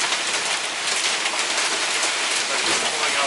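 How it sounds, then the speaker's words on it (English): Hail and rain strike a vehicle during a drive, a dense, steady, hissing drum with no pauses, loud and close. "I do hear hail this time."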